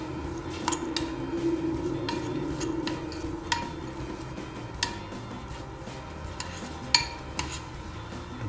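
A spoon stirs ingredients together with honey in a bowl, making soft sticky clicks and scattered taps against the bowl at an irregular pace over a low steady room hum.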